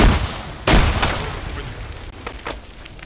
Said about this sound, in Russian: забрасываем одну гранату, после взрыва забрасываем другую.